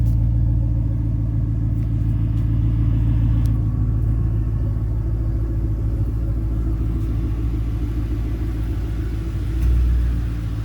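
A 2010 Ford Mustang GT idles close by with a deep, steady exhaust rumble and a slight swell near the end.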